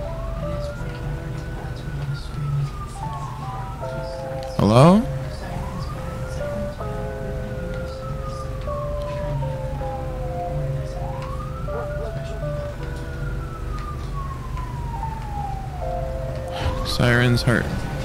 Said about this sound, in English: Sirens loud, owie.